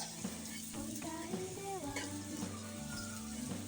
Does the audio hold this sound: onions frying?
yes